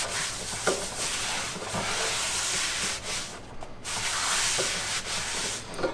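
A paper towel rubs oil around the inside of a cast iron pan being seasoned, a steady close scratchy swishing that carries on without pause, with only brief dips in loudness between strokes.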